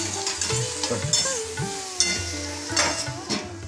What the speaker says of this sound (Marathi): आता मी पूर्णपणे ते मी आता परतून घेणार